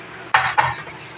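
Broth ladled into a bowl of a dish made with blood, with utensils clinking: two short, bright clatters close by, the second slightly softer, then quiet.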